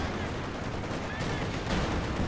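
An IL-2 aircraft attack in Company of Heroes 2 produces a dense, continuous rattle of gunfire and cannon impacts, a loud wash of rapid bursts with no pauses.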